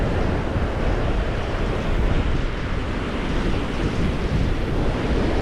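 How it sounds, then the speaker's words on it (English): Steady, loud roar of wind buffeting the microphone on a beach at Cape San Blas, Florida, blended with the constant wash of surf, with no voices. "There's always some wind on the beach"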